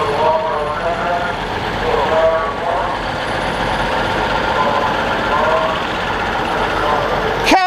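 A classic Leyland truck rumbles past in a vintage truck parade, its engine drone steady and fairly loud amid crowd noise, with people talking and cheering throughout.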